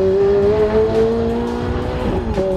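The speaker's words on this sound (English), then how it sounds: "Willy Bieri, the track owner, took me for a lap in a convertible Ferrari F430" A convertible Ferrari F430 lapping a race track, its engine holding a steady loud tone close by while the tires squeal in long sustained whines, with shifts in pitch near the end.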